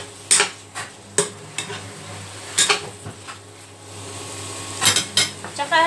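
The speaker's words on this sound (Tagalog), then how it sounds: "Haluin natin muli." Squid with black beans and green pepper is stirred in a pan, the utensil scraping and clinking against the metal in repeated strokes over a faint background sizzle, close and fairly loud.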